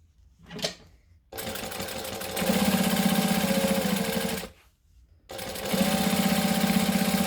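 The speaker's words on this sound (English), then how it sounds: "So we're going to top stitch. So top stitching is 1/8 of an inch. I'm going to go slowly over that thick part, needle down, pivot." Sewing machine top stitching an eighth of an inch over thick fabric, a brief mechanical clunk and then two long steady runs of loud rapid needle chatter with a pause between them.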